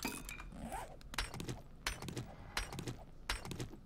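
A dog in the survival game 7 Days to Die makes a string of short, sharp sounds at a steady rhythm, loud and close, with clinking and rustling noises mixed in.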